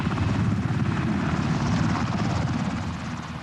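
A US Army military helicopter flies steadily, its rotor making a continuous thudding drone with heavy low rumble, loud and unbroken, easing off slightly toward the end.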